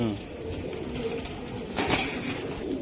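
Club-bred racing pigeons coo steadily up close in a loft, a soft continuous murmur with a brief louder swell near the end and some background noise.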